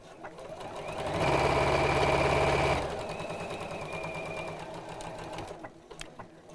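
A sewing machine stitches a straight line down the centre of a rattan handle bag, a steady loud whirring run of about a second and a half, then lighter rapid ticking as it slows.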